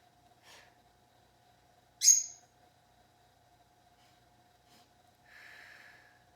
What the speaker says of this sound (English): with a sniffing breath, we're gonna pulse twice